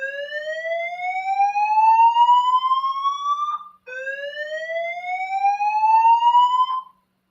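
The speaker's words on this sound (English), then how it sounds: "Fire alarm again." A building fire alarm test sounds two long rising electronic whoops in a row, loud and close, each sweeping upward for about three seconds before a brief gap, with no talk over it.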